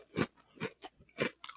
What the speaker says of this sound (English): Yeah, real good crunch. Real good crunch.